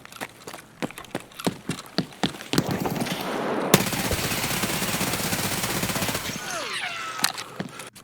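Gunfire in Escape from Tarkov: sharp single shots crack in quick succession, then a dense sustained burst of automatic fire, close and loud, with a faint voice near the end.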